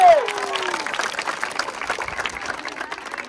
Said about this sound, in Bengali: তাদের জন্য জোরে একটা তালি হবে